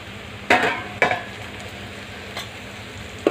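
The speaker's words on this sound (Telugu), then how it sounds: "రెండు మూడు సెకండ్ల వరకు ఈ విధంగా వేయించుకోవాలండి" Dried fish with a pinch of turmeric frying in a pan: a steady low sizzle, broken by a few sharp bursts as the pieces are stirred and tossed, with no one talking.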